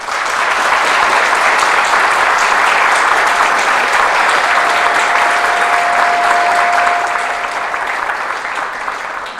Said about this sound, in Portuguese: com uma salva de palmas para os 4 debatedores